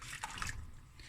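Two liters of hot water pour briefly into a soup pot of samp, beans and celery, a short liquid trickle and splash heard up close.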